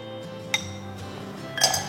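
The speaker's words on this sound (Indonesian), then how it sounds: "Nah ini kita kasih es batu" Ice cubes dropped into a drinking glass while preparing an Oreo dalgona drink, giving two quick clinks about a second apart, the second a brief rattling cluster, close and moderately loud.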